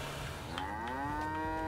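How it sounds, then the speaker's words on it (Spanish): Cattle in the supermarket game Trader Life Simulator 2 let out one long, drawn-out moo that rises slightly in pitch, loud and close over a steady ambient background, with no talking. "Que tenemos vacas"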